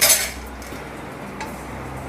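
Milk stirred into leftover sugar syrup in a pan over a low-to-medium gas flame, with a sharp metal spoon clink against the pan at the start, then soft intermittent scraping and light clinks.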